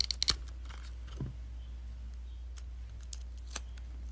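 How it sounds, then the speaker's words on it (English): Scissors snip off excess sticky tape while a fidget toy is being made, giving a few quick, faint, close cuts over a steady low hum. "And if you have any excess, just cut it off."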